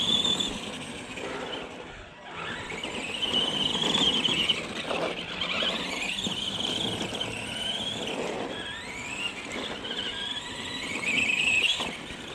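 Arrma Granite Mega RC truck running at half throttle while doing small jumps, a continuous electric motor whine with squealing rises and dips as it accelerates and slows, fairly close and steady throughout.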